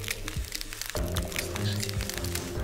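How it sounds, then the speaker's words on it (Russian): A block of ice crackles and pops as boiling water from a kettle is poured over it, a dense stream of close sharp ticks and snaps over a steady pouring hiss. "я слышу, как он шкварчит, трескается постоянно"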